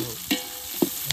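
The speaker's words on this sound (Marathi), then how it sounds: "छान कांदा भाजलेला आहे, त्यात टोमॅटो मस्त मिक्स करून घ्यायचं आहे" Tomato stirred into frying onions in a pan, with three brief scraping knocks from the spoon over a faint continuous sizzle, close by.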